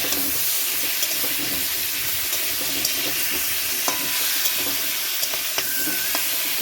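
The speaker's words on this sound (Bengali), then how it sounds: "আমি আপাতত এখন সিম বেগুন এগুলোকে হালকা হালকা করে ভেজে নেব" Flat beans and eggplant fry lightly in a pan, a steady close sizzle with occasional scraping stir clicks and clinks throughout, no talking.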